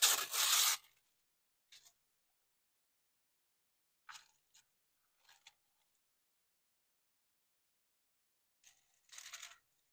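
Paper being torn by hand for an art journal collage made from a board book, one longer rip at the start, then a few short sparse tears and a final brief rip in quiet surroundings.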